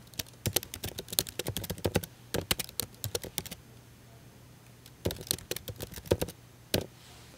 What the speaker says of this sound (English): So what I'm going to do is type in a new one.